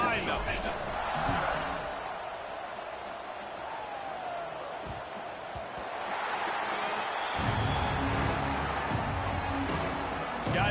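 Stadium crowd noise in an American football video game, a broad steady roar lasting throughout and swelling in places, with a commentator talking over it.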